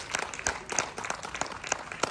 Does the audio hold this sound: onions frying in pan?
no